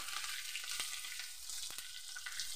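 Shahi paneer masala ingredients frying in a kadhai, a continuous bright sizzle of hot oil with occasional stirring clicks and scrapes, fairly close.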